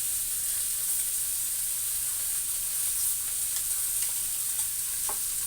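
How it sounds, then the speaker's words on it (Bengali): Dried chillies and radhuni seeds sizzle steadily in hot oil in a pan, a continuous close hiss with faint crackles and a few sharper pops near the end, no voices. "এই তেলের মধ্যে দিয়ে দিচ্ছি শুকনো লঙ্কা, দিয়ে দিচ্ছি রাঁধুনি ফোড়ন, বাটা লঙ্কা দিয়ে দিচ্ছি"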